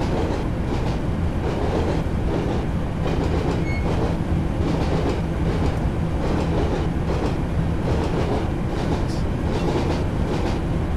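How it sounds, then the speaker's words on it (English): A Network SouthEast Class 483 ex-tube train, old London tube stock running on the Isle of Wight, rolls steadily with repeated clickety-clack of wheels over track joints under a constant loud rumble of motion. "the track joint sounds are good"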